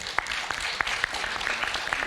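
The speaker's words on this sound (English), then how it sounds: "Let's give you a big round of applause." Sparse clapping, a handful of distinct claps scattered over a steady background hum, fairly quiet and a little distant.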